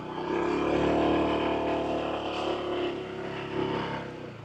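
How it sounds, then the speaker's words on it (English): Honda ADV160 scooter pulling out of sand, its engine droning steadily and loud throughout with a slight rise and fall in revs, close by and with no talk over it. "let the bike do the work to get out of the sand"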